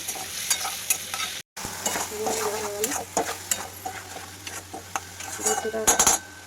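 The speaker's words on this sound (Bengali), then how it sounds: "এখানে হচ্ছে পেঁয়াজ এখন ভাজা এখন মশলাটা দেবো" Onions frying in a pan while being stirred with spices, a loud close sizzle under frequent scraping and clanking of a metal spatula against the pan.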